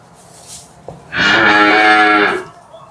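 A single loud, drawn-out moo from a Holstein Friesian heifer, close by, lasting over a second against a quiet background.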